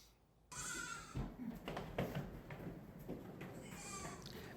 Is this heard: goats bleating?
yes